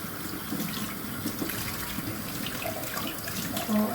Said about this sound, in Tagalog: Maghugas ng pinagkainan.